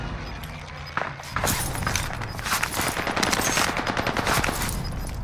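Heavy gunfire in Call of Duty Modern Warfare, a loud impact followed by rapid automatic bursts rattling continuously and close, with faint voices beneath.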